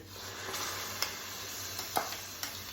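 Masala frying in a pan for a bottle gourd kofta curry, with ground tomato puree going in. A steady, fairly soft sizzle runs throughout, broken by a few brief clinks and stirring taps.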